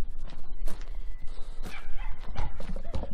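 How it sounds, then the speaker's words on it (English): Dogs bark in short irregular bursts amid a busy outdoor background, with yips and clattering noises mixed in; the barking sounds moderately close. "We're back on site and the dogs are barking."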